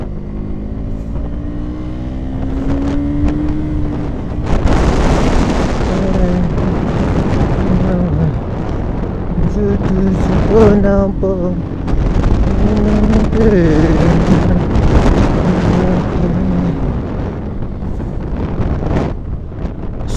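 Motorcycle ridden over a rough, slippery mountain road near a dry waterfall on the Kalinchowk route, engine droning steadily with heavy wind buffeting the microphone throughout.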